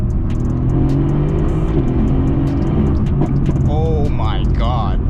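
A car drives along a bumpy road with a steady low rumble of engine and road noise throughout, joined near the end by faint warbling tones.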